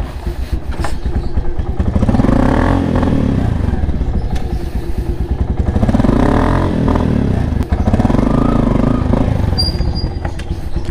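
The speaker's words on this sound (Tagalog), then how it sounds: "pinainit ko na tong motor natin" A warmed-up motorcycle engine idles close and loud, with a steady throbbing rumble and slight rises in revs, running alone without talk.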